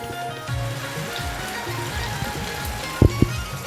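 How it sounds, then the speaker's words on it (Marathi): Monsoon rain falls steadily with a broad wash of wind noise over Konkan farmland, and a couple of brief thumps near the end. "पाऊस आणि वारा"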